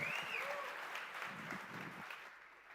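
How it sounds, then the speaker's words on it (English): Applause from a crypto conference audience in Istanbul as a speaker is welcomed on stage, a dense wash of clapping that fades out near the end, with brief speech heard over it. "please join me in welcoming George Harrop with a big round of applause"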